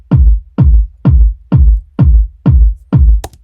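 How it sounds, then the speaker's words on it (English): Two layered kick drums programmed in Ableton Live, one hard-hitting and one adding top-end click, strike together in a steady four-on-the-floor beat, seven loud, evenly spaced thumps with no other instruments. "So I've got two kicks, very like one's very hard hitting, the other one's just keeping the tops in."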